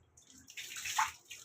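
Water splashes and sloshes steadily in a bathtub during a bath, rising to a stronger surge midway, with no voices.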